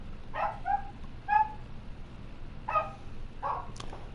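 Puppies giving several short, high yips and whimpers spaced a second or so apart, fairly close, over a low steady background hum on a farm.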